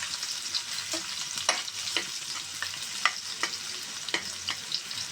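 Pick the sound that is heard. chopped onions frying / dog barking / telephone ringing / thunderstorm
chopped onions frying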